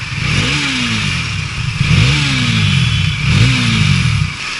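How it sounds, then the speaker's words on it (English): A Bajaj Dominar 400 motorcycle with an aftermarket M4 exhaust, loud and throaty, revs up three times in a steady rhythm, each rise and fall clearly audible over a rumbling idle. "as the engine gets warmed up, the sound gets much better"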